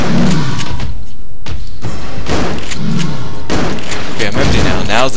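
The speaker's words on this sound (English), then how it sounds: "Bullets, they do nothing." Loud video-game gunfire from Resident Evil: Darkside Chronicles comes in dense, close bursts of shots and heavy thuds, with a voice talking over the action.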